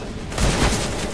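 Gunfire in a video game comes as a dense burst of rapid shots over continuous background noise, loud and close.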